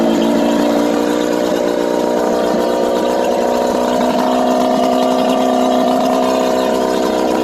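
A 99 Johnson outboard engine on a fishing boat idling steadily just after a cold start, a continuous loud drone with a constant pitch and no talking.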